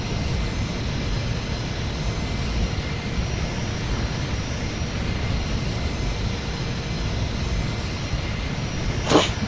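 Steady, loud engine roar of a C-17 Globemaster III in Microsoft Flight Simulator, a continuous low drone that holds evenly throughout, with a brief higher burst near the end.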